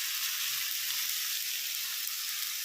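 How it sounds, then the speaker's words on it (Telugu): Tomato gravy sizzling steadily in hot oil in a home kitchen pan, a continuous bright frying hiss, close and even, with no talking. "వేగుతున్నప్పుడు నూనె తేలుతుంది చూడండి."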